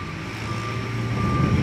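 A delivery truck's reversing alarm beeps steadily outside a window in Odessa on a rainy day, a loud sustained tone over heavy engine rumble.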